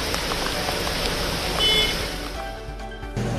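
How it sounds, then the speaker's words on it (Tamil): Heavy rain falls in Mumbai during Cyclone Tauktae as a dense, steady hiss. It is loud and continuous, with street noise showing through as the downpour eases slightly toward the end. "டாக்தே புயலால் மும்பையில் பல்வேறு பகுதிகளில் கனமழை பெய்து வருகிறது."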